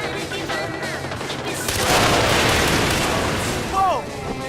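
In Far Cry 4, a gun mounted under a car dashboard fires a sustained, loud burst of gunfire that swells in the middle of the clip, with voices breaking in briefly before and after.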